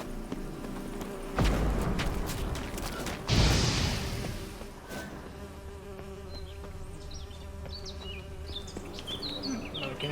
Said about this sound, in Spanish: Vale, aquí hay abejas.